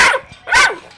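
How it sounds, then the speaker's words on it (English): An American Bully puppy gives two sharp, close barks about half a second apart, loud and alone. "Right here, the one that's barking."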